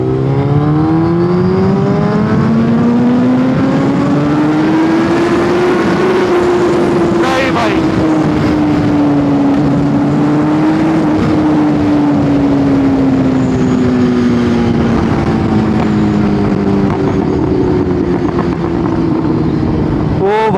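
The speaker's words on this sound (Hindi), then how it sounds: "अब मेरी बूसा ना चौथे गियर में 300 की स्पीड टच कर रही है" A Suzuki Hayabusa with a Stage 2 ECU remap screams at high speed in fourth gear, its loud engine note rising and holding steady with a thick wind roar for the whole stretch.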